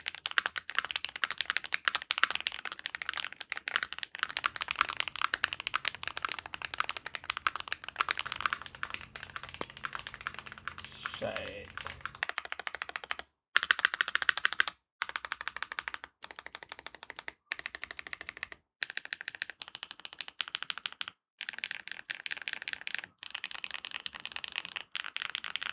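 Typing on a Womier SK75 75% mechanical keyboard with upgraded TMR switches, a steady close stream of rapid clacky keystrokes with brief pauses, no talking.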